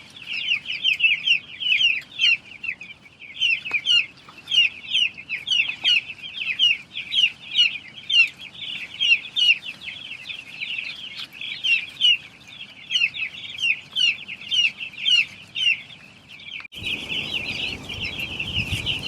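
Chickens cluck and chatter continuously nearby in busy, overlapping bursts, ending with a sudden rush of noise in the final seconds.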